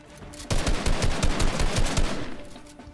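Rapid bursts of automatic gunfire from a Fortnite match, a dense run of sharp loud shots starting after a brief quiet lead-in and continuing steadily with no talking.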